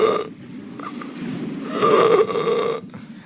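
A voice imitates labored, pained breathing with rasping, throaty inhales and exhales, rising in strength partway through before fading, heard alone at close range.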